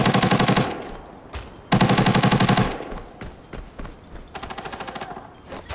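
Automatic gunfire in the shooter game Arena Breakout: loud, rapid bursts, with two long sustained volleys, scattered single shots in between, and a shorter burst near the end.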